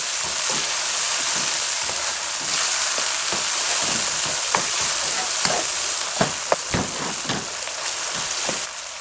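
Coarse red chili flakes and black pepper roasting in a pan give a steady bright sizzle with a scatter of irregular crackles and pops, heard alone at moderate loudness.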